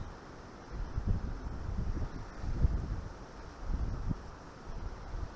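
Steady wind gusting over the microphone beside open water while spin fishing for rudd and roach, a low rumbling buffet that swells and eases, close and continuous, with no talk.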